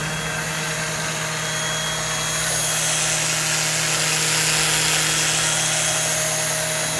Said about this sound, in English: And I put the starter back together. And now I'm going to give it a test.